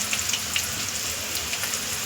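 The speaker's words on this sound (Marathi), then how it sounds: "त्यामध्येच आपण आता काय करायचे, गाजर टाकायचे." Chopped carrots hit sautéed onions in a pan for street-style tawa pulao, raising a soft, steady sizzle with light crackles and no voices.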